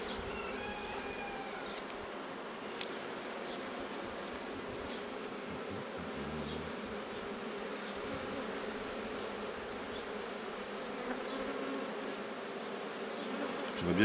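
Honeybees at an open hive in an apiary while boxes are changed and a honey super is added: a dense, steady buzzing swarm fills the air throughout, close and continuous, with no voices.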